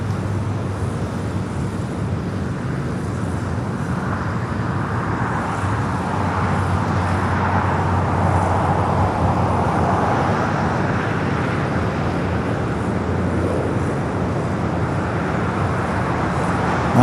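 An airliner lands at LAX airport, a steady, distant jet roar that swells through the middle and then eases, with faint road traffic beneath and no talking.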